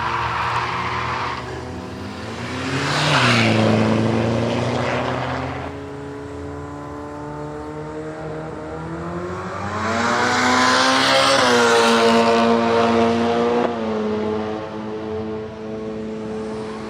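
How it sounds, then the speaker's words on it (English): Holden Gemini and a turbo diesel Toyota Celica launch side by side at a drag strip, engines revving hard and rising through gears in two loud surges, each climbing then cutting off, with no talk. "Tough little Gemini over there in the Rocket Industries lane, up against this turbo diesel Toyota Celica"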